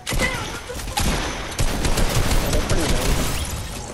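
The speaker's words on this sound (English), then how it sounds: "I hit them with the infantry rifle by accident." Infantry rifle fire in Fortnite rattles in dense, continuous bursts, loud and close, with overlapping shots from a squad firefight and other players' gunfire blending into a steady barrage.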